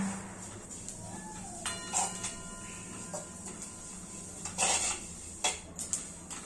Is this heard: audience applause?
no